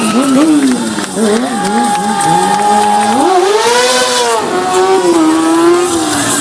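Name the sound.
stunt motorcycle performing front-wheel stunts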